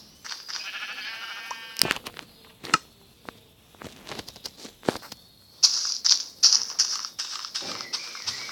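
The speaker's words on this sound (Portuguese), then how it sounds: "Tem ovelha aqui, vamos pegar," Sheep bleating in a block-building survival video game, several short bleats scattered among clicks and other game sounds, moderately loud with no talking.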